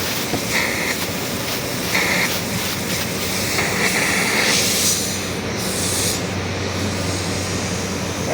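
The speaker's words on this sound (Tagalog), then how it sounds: "Ito mga tropa singaw. Yan, may butas siya." Air escaping from a leak in the refrigerant line of a 3-ton split-type air conditioner, a steady loud hiss running continuously with faint intermittent higher whistles over it.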